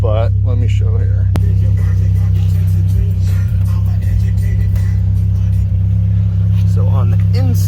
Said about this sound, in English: I've got the car running right now so that the oil gets all warmed up and everything gets up to temperature